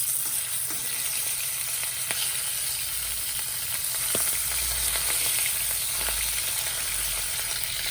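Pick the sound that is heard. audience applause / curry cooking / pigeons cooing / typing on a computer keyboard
curry cooking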